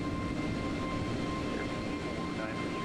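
A32NX airliner starting its takeoff roll in Microsoft Flight Simulator, a steady loud engine roar with a whining tone holding constant throughout.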